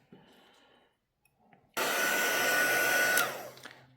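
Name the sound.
heat embossing tool blowing hot air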